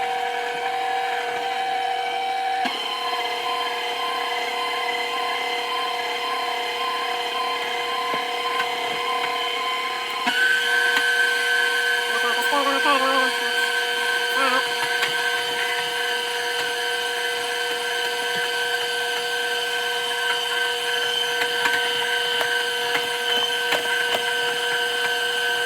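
An electric mixer fitted with a whisk attachment beats sorrel cake batter in a steady, droning whir that lasts the whole stretch. The pitch shifts upward partway through as the speed rises. No one speaks.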